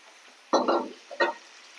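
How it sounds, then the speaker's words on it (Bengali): Water goes into a hot pan of mixed vegetable curry and hisses in two short sizzling bursts close by against a quiet kitchen background. "এবারে জল দিয়ে দেবো।"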